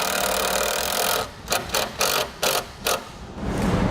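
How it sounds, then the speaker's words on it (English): A 5/16 socket ratchet tightening a ring terminal on a ground wire gives a few quick bursts of close, loud clicking, with steady mechanical noise before and after. "Now we'll take a 5/16 socket."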